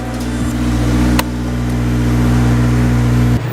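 A Honda S2000 engine fitted with an AEM cold air intake idles loud and close with a deep steady hum and drone, then a sharp change near the end as the revs shift.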